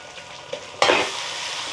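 Chicken pieces frying in a pan with no added water, stirred over high heat; a loud sizzling burst begins partway through and continues steadily close by, with no talking.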